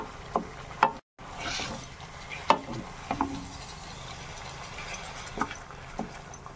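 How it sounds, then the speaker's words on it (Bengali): Salted meat pieces frying in a pan, a low sizzle broken by several sharp stirring and scraping knocks at uneven intervals. "আগে মাংসগুলোকে একটুখানি ভেজে নেব।"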